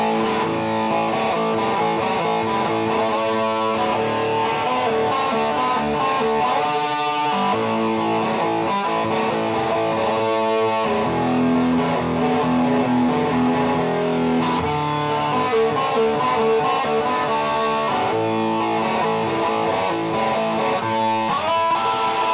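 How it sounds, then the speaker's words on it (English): Fentura TL-Vintage electric guitar played loud through distortion, a continuous stretch of sustained overdriven chords and riffs with no talking. "I'll crank the guitar up with my distortion here"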